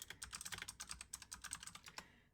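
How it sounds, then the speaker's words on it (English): Rapid, close clicking of keys on a computer keyboard during an online Magic: The Gathering Commander match, an uneven burst of keystrokes lasting about two seconds, faint and with no voices. "Typing stuff in chat."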